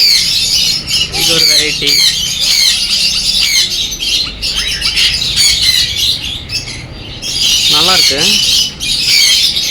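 Many caged parrots and other birds in a pet shop squawking, screeching and chirping loudly and almost without pause, with someone speaking briefly over the din.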